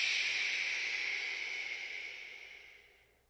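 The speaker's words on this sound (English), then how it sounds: "exhaling a little bit more forcefully, a little more quickly, but still making an SH sound" A single forceful breath pushed out as a long, steady SH hiss during a qi gong exercise, close and clear, fading away over about three seconds with no talking.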